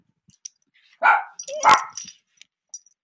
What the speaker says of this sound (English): And there are my dogs helping to protect me from the neighbors.